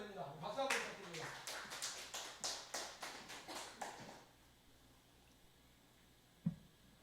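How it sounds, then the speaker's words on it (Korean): A congregation at a Korean church's Wednesday Bible worship service claps in a quick, rhythmic burst for about four seconds. It fades to near silence, with one soft knock near the end. "박수 한번 부탁드립니다."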